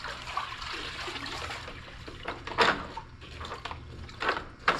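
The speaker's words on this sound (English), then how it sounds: "Take your mop, rinse it out." Water sloshing and trickling as a mop is rinsed out in a bucket while cleaning a stage, several short splashy bursts and dribbles close by, with no talking.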